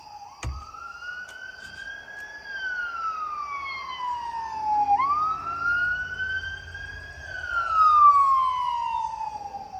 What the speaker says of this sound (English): Freaking ambulances going by.